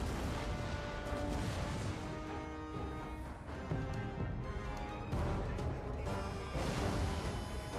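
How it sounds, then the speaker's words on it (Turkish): Cannon fire from the 1480 siege of Otranto, a dense continuous barrage of booms and crashes layered with rumble, loud and unrelenting throughout. "Geceleri bile susmayan top sesleri, Otranto'nun üzerine kara bir gölge gibi çöktü."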